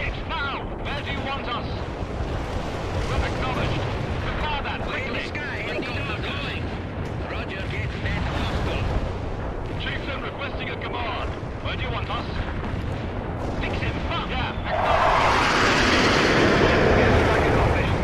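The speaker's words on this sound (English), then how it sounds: "that artillery strike was spot on" Artillery strikes land in World in Conflict, a continuous heavy rumble of explosions with a louder roaring burst near the end, voices talking over the din.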